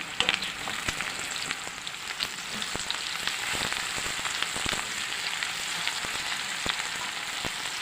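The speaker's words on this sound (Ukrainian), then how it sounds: "Так, жаримо цибулю." Steady crackling sizzle of onions sliced in half-rings frying in a skillet with plenty of sauce, continuous and close, with occasional sharper pops and no voices.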